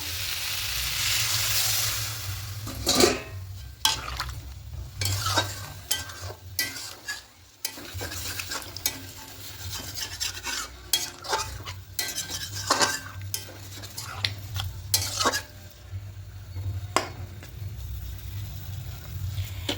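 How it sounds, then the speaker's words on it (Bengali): Spicy mushrooms and potatoes stir-fried in a pan, with a steady sizzle broken by frequent close scrapes and clinks of a utensil against the metal, continuing throughout without talk. "এবার আরও একটু কষিয়ে নেব খুব ভালো করে কষিয়ে নিয়েছি"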